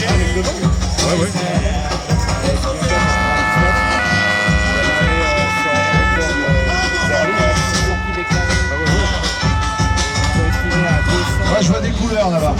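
A two-tone fire engine siren alternates steadily over a loud, busy background with voices mixed in.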